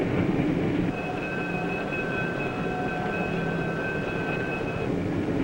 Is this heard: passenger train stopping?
yes